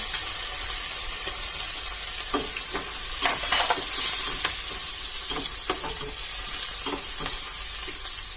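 Chopped onions fry in a pan over medium heat for pav bhaji, giving a steady hiss of sizzling with scattered spatula scrapes and stirring clicks throughout.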